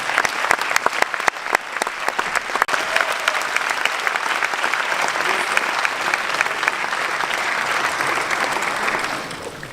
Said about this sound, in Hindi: जोरदार तालियां राजेश पासवान जी के लिए।